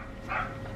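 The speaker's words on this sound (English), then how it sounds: "My dogs are going ballistic because my husband's probably home." Pet dogs barking indoors at home, a single short, faint yappy burst over quiet room noise.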